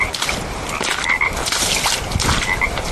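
Dense chorus of frogs croaking continuously in the foreground at night, with crickets trilling mixed in, steady and loud throughout.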